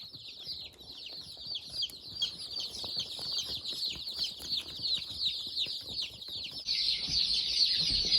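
A flock of mixed chicks from Cackle Hatchery peeping continuously in dense, overlapping high chirps, steady and fairly close, growing a little louder near the end.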